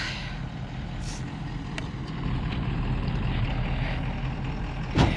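An RV truck engine rumbles steadily as the rig tries to drive off rocks wedged under its tires, a low continuous drone that swells slightly midway, with a few faint knocks and a sharp clunk near the end.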